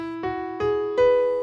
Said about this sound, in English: The prelude sounds like this